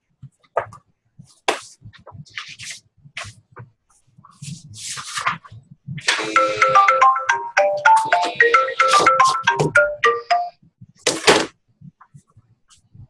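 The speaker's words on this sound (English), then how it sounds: "That's just my phone going off." A mobile phone ringtone goes off, a bright melodic electronic tune playing for several seconds amid scattered faint knocks and rustling as someone searches for the phone.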